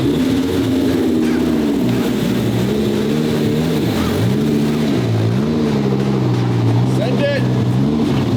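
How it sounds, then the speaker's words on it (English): A car holds a loud, steady engine roar during a burnout, its pitch wavering up and down without pause for several seconds. "First burnout on the property is from you."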